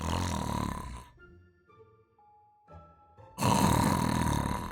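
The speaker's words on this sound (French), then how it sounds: "Il y a Rusard sur une chaise. Il ronfle." A character asleep on a chair in a Harry Potter video game snores loudly in two long, rasping breaths separated by a quieter pause.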